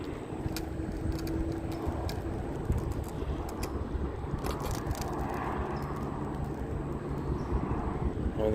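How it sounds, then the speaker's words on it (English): An LAPD police helicopter drones steadily in the distance overhead, a continuous low rumble with faint wind noise and no clear speech. "there goes the LAPD helicopter"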